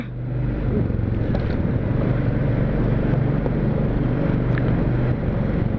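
A motorcycle rides through the Sela tunnel in Arunachal Pradesh, its steady engine drone and rushing wind noise filling the enclosed space continuously and close up.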